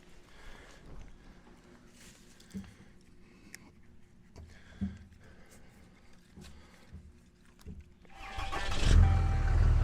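A truck engine in four-wheel drive low, pulling a stump, starts as a low idle rumble with faint knocks, then revs up into a loud, swelling roar over the last couple of seconds.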